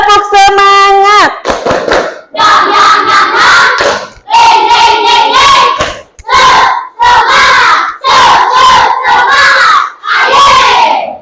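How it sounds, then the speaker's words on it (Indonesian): A classroom of students performs a rhythmic spirit clap chant, loud and close. They shout in unison in repeated bursts, with claps and short pauses between phrases, and a teacher's voice leads at the start. "Kita tepuk semangat dulu ah."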